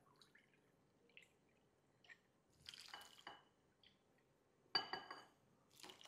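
Coconut water goes into a batter of rice semolina and grated coconut, heard as a few short, soft splashy pours and drips separated by near silence.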